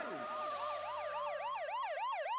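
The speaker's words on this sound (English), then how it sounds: "I hear sirens." A wailing emergency siren sweeping up and down in fast, repeating cycles, clear and sustained, with no talking.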